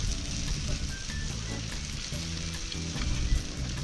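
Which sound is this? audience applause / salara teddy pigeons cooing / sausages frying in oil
sausages frying in oil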